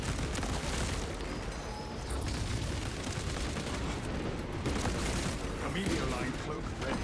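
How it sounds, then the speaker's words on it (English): Continuous dense gunfire in Space Marine 2 while an enemy is shot, a rough, sustained rattle lasting the whole stretch with a voice talking over it. "Shooting this guy in the face."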